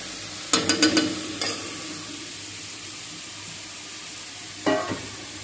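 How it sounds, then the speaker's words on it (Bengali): Vegetables frying in a pan without onion, a steady soft sizzle with a quick cluster of stirring scrapes near the start and another brief scrape toward the end, no talking. "পেঁয়াজ দেবো না। নিরামিষভাবেই ভাজিটা করে নেব।"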